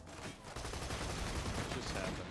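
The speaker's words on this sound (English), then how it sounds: "Shoot that gun, pal." Sustained gunfire in the video game Borderlands 2 fills the moment, a dense rapid volley that runs continuously at steady loudness.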